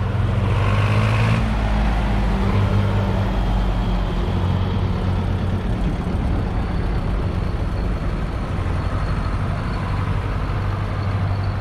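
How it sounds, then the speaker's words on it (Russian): Tractors rolling downhill on an Austrian mountain road, a continuous heavy engine drone with low tonal hum and a brief brake-like hiss early on, steady and fairly close, no talk. "Трактора едут вниз."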